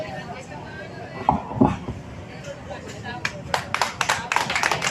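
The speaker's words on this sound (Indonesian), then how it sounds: "Kita berikan aplaus tepuk tangan yang meriah buat bakal calon legislatif kita" An audience at a gathering for a legislative candidate breaks into clapping, scattered claps at first that grow into a burst of applause near the end, under and after a man's speech.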